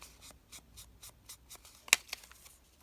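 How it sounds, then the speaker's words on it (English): Ink is dabbed and swiped around the edges of small paper envelopes in quiet, rhythmic rubbing strokes about every quarter second, with one sharper scratchy scrape near the end and no speech. "I'm going to just ink a little bit around here on all of these."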